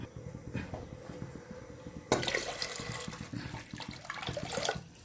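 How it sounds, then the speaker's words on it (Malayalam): Hot water pours steadily into a cooking pot of rice, growing louder and fuller partway through, with no voices. "നമുക്ക് ഇതിന് 2 പാട്ട വെള്ളമാണ് ഒഴിക്കേണ്ടത്"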